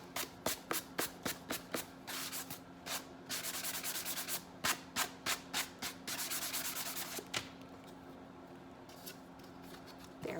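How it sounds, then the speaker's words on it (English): A tool scrapes excess paper off the edges of an ornate Dollar Tree frame, making a rapid series of close, dry rasping strokes in a steady rhythm that thins out toward the end. "in a downward motion like this, I'm going to go down on my edges and scrape that"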